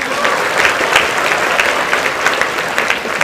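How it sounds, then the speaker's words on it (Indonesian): A hall of university students applauds after Anies Baswedan's talk in Solo, the clapping dense, even and close for the whole stretch, with no voices over it. "Kita berikan tepuk tangan sekali lagi."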